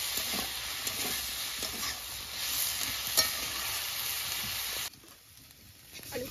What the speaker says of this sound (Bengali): লঙ্কাগুলো দিয়ে দেব, দিয়ে আমি ওর সঙ্গেই হালকা করে ভেজে নেব